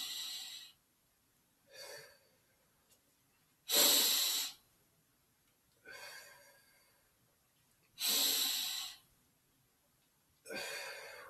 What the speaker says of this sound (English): So you want to inhale, exhale about at least four to five times.